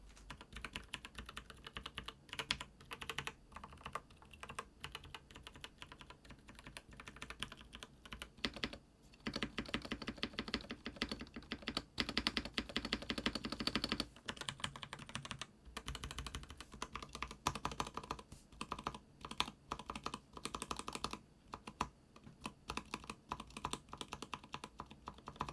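Steady typing on an IF98 mechanical keyboard, with soft, rapid key clicks in irregular bursts up close in a quiet office setting, with no talking.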